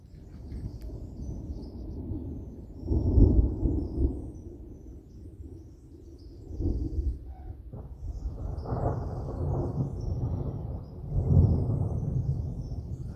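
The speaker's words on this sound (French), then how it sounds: "Violent cet orage." Deep rolling rumbles of thunder from a violent thunderstorm, several long low swells rising and fading at a distance, with faint bird calls in the background and no talking.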